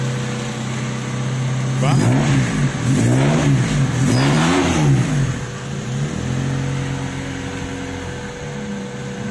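A Honda Civic engine runs near at a racetrack. A steady hum with whining tones pulses through a few rhythmic revs, then settles back to an even idle, with a short spoken word over it.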